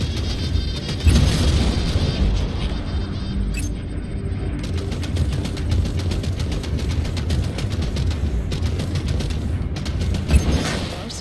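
Rockets and missiles explode without pause in the space combat game Strike Suit Zero, dense rumbling booms and gunfire layered over engine noise, loud and close with no talk.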